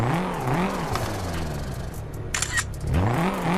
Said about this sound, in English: Now let's do some revving.